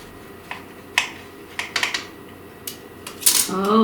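A knife slices through an air-fried Oreo cookie dusted with confectioner's sugar, giving a few short, close crisp crunches and clicks against a plate, ending in a louder burst of crackling.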